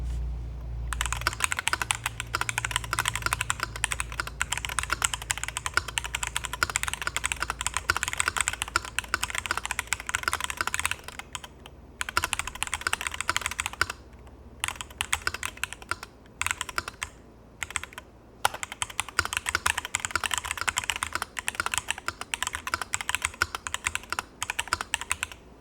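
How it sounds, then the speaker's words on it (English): Fast, continuous typing on a MelGeek68 Ultra keyboard with magnetic switches, a close, dense patter of keystrokes with a few brief pauses, heard alone without any voices. "let's go ahead and do ourselves an actual little typing test here"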